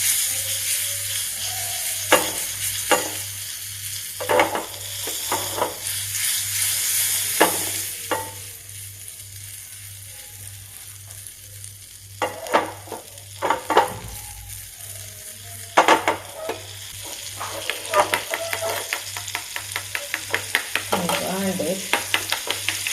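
Butter melting in a pan for a no-bake cheesecake, giving a soft steady sizzle with repeated scraping stirs and clinks of a utensil against the pan, close up and continuous.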